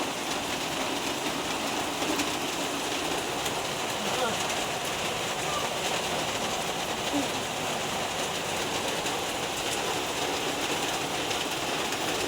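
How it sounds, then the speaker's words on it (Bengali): Heavy rain falls steadily in a continuous, even hiss that stays fairly quiet and distant for the whole stretch, with faint voices under it at times. "প্রচুর বৃষ্টি নামছে এদিকে।"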